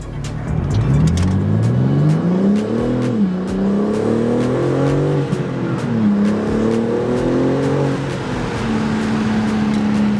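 A BMW G80 M3 fitted with a BMS intake revs and accelerates, recorded from inside the cabin with the windows down; the loud engine note climbs and falls through several gear pulls, then settles into a steady drone.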